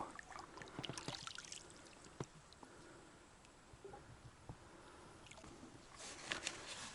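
Paddling a boat on the wild Dniester river, with soft, quiet splashes and water trickles scattered across a faint background of flowing water, a brief livelier burst of splashing near the end.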